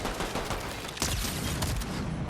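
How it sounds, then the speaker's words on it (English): Gatekeeper shotgun firing in a Fortnite match, a dense barrage of shots with a sharp blast near the middle, loud and close, no voices. "Every shot's got to count here for Pars on that Gatekeeper shotgun"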